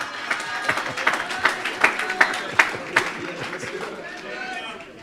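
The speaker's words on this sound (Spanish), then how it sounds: "Dale un fuerte aplauso al Rey de Gloria." Scattered clapping builds into sharp bursts of crowd applause at a church retreat in Bonaire, mixed with voices and cheering, tapering off toward the end.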